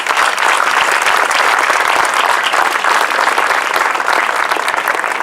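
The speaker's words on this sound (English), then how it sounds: "let's give all of our veterans a round of applause" A crowd at a Veterans Day ceremony in El Monte applauds steadily and loudly, the clapping sustained without a break from start to finish.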